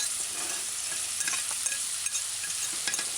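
Boneless curried chicken frying in a pan, a steady close hiss of sizzling oil with occasional small pops and stirring scrapes, no voices.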